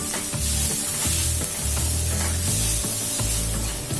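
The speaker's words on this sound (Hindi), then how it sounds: "बस इस तरह से हम इसको अभी सौते कर लेते हैं अच्छे से" Ground spices, red chili, turmeric and coriander powder, sizzle and crackle in a hot pan for Patiyala chicken, with continuous bright frying hiss and rhythmic scraping strokes of stirring.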